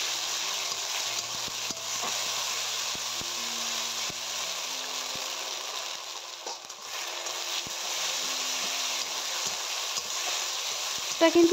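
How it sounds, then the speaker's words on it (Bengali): Onion and ground spice paste fry in a pan for a young jackfruit curry, giving a steady, close hiss of sizzling oil that holds evenly throughout with little change. "সব মশলাগুলোকে একসঙ্গে দিয়ে ভালো করে কিছুক্ষণ ভেজে নেব"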